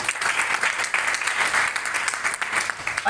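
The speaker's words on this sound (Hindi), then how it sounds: "जोरदार ताली आप सभी के लिए।" A seminar audience gives loud, sustained applause, many hands clapping densely and continuously, near and energetic throughout.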